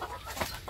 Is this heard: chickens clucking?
yes